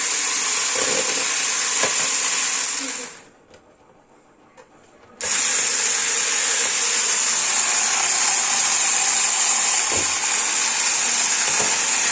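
A handheld electric whisk or mixer whirs steadily in a home kitchen, cutting out for about two seconds before restarting and running on at a constant loud drone.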